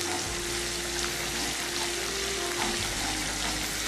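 Chopped thick green chillies and cumin seeds sizzle steadily in hot oil, a loud continuous crackling fry with a faint low hum beneath and no voices.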